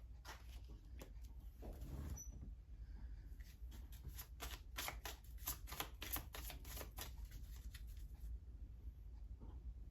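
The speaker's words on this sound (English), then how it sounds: "I shuffled the deck." A deck of cards being shuffled up close, a burst of rapid riffling flutters in the middle with quieter handling before and after.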